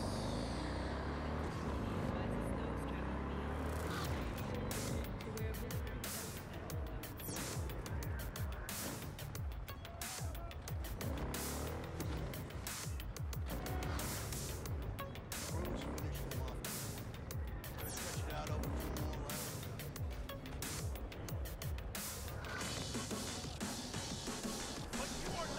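A car drives in Cyberpunk 2077 with a continuous engine roar and road noise, broken by repeated crashes and honks, while a person talks intermittently over it.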